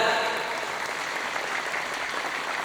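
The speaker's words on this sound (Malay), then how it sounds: "Tepuk tangan." Audience members at an Islamic sermon break into applause, a steady, even wash of clapping that starts strongest and holds for a few seconds.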